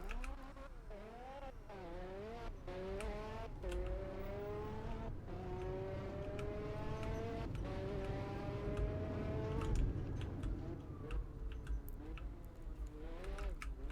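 A diesel car engine in the video game Fix It Up revs repeatedly, rising and falling in a series of climbing, throaty sweeps that build to a higher sustained pitch, heard alone without talk.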